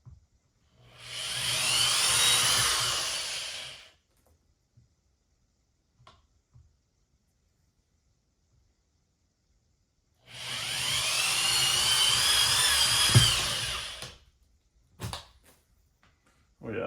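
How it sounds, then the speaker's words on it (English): A power drill whines as it bores into drywall in two separate bursts of several seconds each, with quiet pauses and a few clicks between. "And I'm just gonna drill into the 4 points on the wall."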